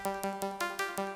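Digital synth sequencer pattern using the SEQ2 sequencer-bank voice, short repeating bright notes pulsing in a steady quick rhythm, fairly quiet and alone.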